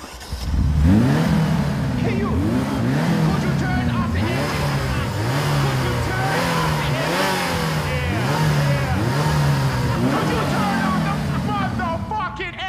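A car engine starts and revs repeatedly, with rising and falling surges in a steady rhythm, loud and close throughout.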